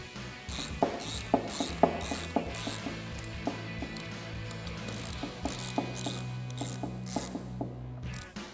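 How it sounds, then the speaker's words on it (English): An 11mm socket on a ratchet tightens the track bar clamp bolts on a Jeep Gladiator JT. The clicks come close and crisp in short irregular bursts over a low background hum. "we will take our 11mm socket and ratchet. We want to tighten down our 2 clamp bolts."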